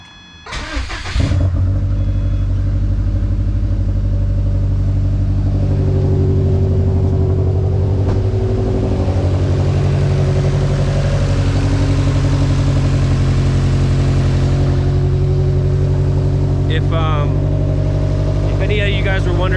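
Modified car with a speed density tune and intercooler, heard from inside while driving: a loud, steady engine drone from start to finish, rising and shifting in pitch as it pulls, with some background speech.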